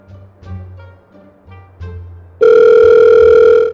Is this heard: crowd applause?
no